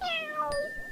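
A single cat meow, clear and fairly close, rising then falling over under a second, with no talk around it.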